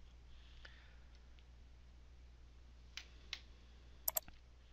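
A computer mouse clicking during a VirtualBox setup, a few faint separate clicks with a quick double click near the end over a quiet background hum.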